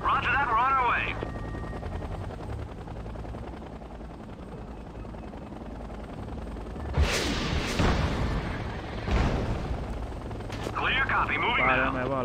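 Rotor chop of an AH-64 Apache attack helicopter in the Act of War: Direct Action strategy game, with bursts of gunfire and explosions during combat; loud and continuous, with voices speaking over the battle.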